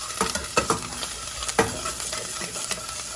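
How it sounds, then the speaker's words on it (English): Ginger, about a tablespoon, sautéing in a pan for orange chicken lo mein: a steady close sizzle with scraping stir clicks and clatter at irregular moments, and no voices. "Saute it up a little bit."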